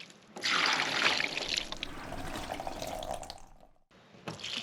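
Water pours and splashes across the metal roof of a Ram ProMaster van to leak-test a newly installed Maxxair fan, a loud close rushing spray that tapers off briefly near the end before resuming.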